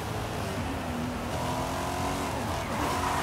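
A Corvette C8 engine accelerates under steady revving, a loud continuous drone that climbs in pitch over a few seconds with no talk over it.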